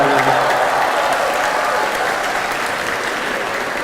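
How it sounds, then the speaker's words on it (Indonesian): Steady applause from an audience, a dense wash of clapping that holds at an even level for a few seconds, with no talking. "Kenapa tepuk tangan nih?"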